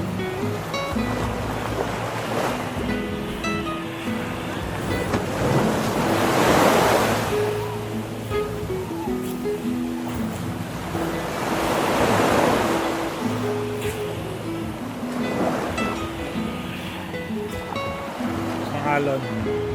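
Ocean waves on the Samal Island shore at dawn surge and crash in slow, repeating swells, loud and close, with wind rushing across the microphone and a low hum beneath.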